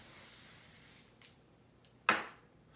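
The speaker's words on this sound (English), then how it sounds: "I'll give it another spray." Hairspray misted onto a styled fringe during a pigtail hairdo: a soft, sustained aerosol hiss for about a second, then a short, sharper burst of spray fading out, close and fairly quiet with no talking.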